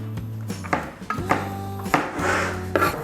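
A knife chops roasted tomatoes, garlic and basil for soup on a wooden board, with a series of close, irregular knocks and scraping rubs; a low steady hum runs beneath.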